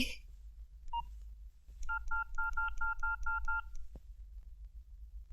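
A telephone number is dialed on a touch-tone phone: one short beep, a pause, then a quick, even run of about eight clear tones over a low background hum.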